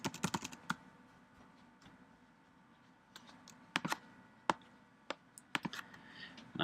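Text is typed on a computer keyboard in quick, irregular bursts of close, crisp key clicks separated by short pauses, over a quiet background.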